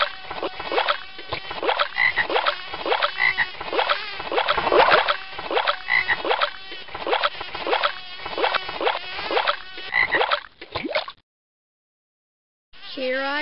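A toad croaks in The Magic School Bus Explores the World of Animals video game, a close, loud run of rapid pulsing croaks in a steady rhythm over about eleven seconds, followed by a short silence and then another croak starting.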